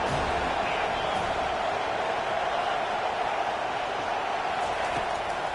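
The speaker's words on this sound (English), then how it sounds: "Decibels rising as the crowd gets behind this defense on third down" A football stadium crowd at Oregon vs FSU roars on a defensive third down, a dense, steady wall of distant cheering and noise with no clear breaks.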